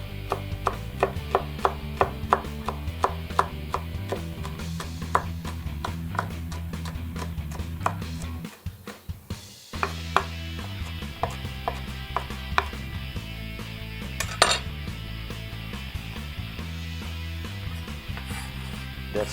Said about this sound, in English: Give them a rough chop.